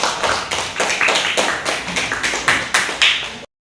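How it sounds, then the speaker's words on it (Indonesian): A classroom of students claps for a group after its presentation, a loud rhythmic burst of hands striking in fairly regular beats that stops abruptly after about three and a half seconds. "Beri tepuk tangan untuk kelompok 2."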